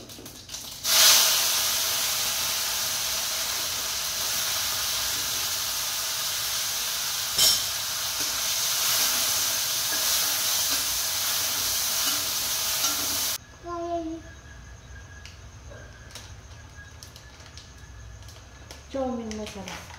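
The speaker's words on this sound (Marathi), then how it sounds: "बघा आपली गावरान मॅगी भाजून घेतली तेल न टाकता" Maggi noodles dry-roast and crackle in a pan with no oil, a loud steady hiss with scraping stirs that cuts off abruptly, leaving quieter clinks and a person speaking.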